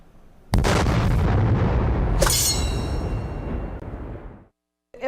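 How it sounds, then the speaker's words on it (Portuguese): A loud explosion sound effect bursts in suddenly and alone, a broad boom with a sharp secondary blast, rumbling on for several seconds before cutting to silence, played on a Brazilian football talk show about Corinthians. "Eu explodi na tela, né? Até assustei, foi uma explosão, assim."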